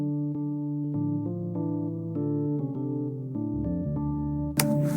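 A MIDI harmony built from a single sample plays in music production software: sustained synth chords that shift every second or so, ending with a short noisy burst.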